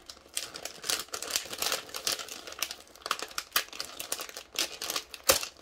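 Crinkly packaging on a cross-stitch kit box being torn open by hand, continuous close crumpling and ripping with irregular sharp bursts throughout.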